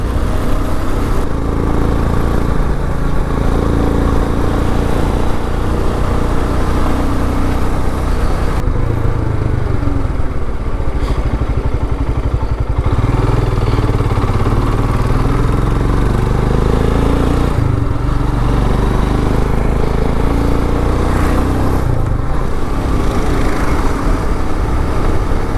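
A Royal Enfield motorcycle rides along a road, its engine a loud, steady drone throughout with heavy wind rush and small shifts in pitch as it speeds up and slows.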